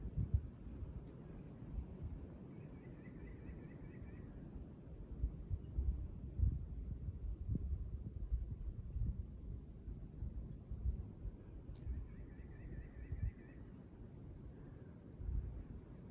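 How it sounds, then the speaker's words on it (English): Steady low rumbling wind buffets the microphone, a continuous muffled roar that swells and eases, with faint birdsong chirps drifting in now and then. "Here comes the wind, listen."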